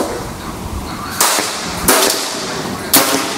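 A PCP air rifle fires three sharp, cracking shots at uneven intervals during target shooting, each a short, loud snap against a steady background hiss.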